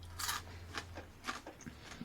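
Chewing crunchy rendered lard bits, with several sharp, close crunches and bites in an uneven rhythm over a steady low hum.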